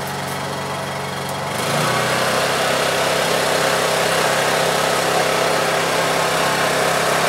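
Honda EU2200i inverter generator running steadily after a hard pull-start, a loud close buzzing engine drone that rises slightly in pitch and settles into an even, continuous hum.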